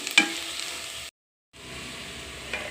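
Turmeric and chili powder fry in a pan for onion pulusu, making a steady close sizzle and hiss that drops out briefly in the middle before resuming.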